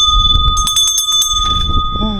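A traditional buffalo bell at a war-themed cafe in Chonburi, Thailand rings loudly and up close in a quick run of bright, clanging strikes with a sustained metallic tone, and a voice begins speaking at the end.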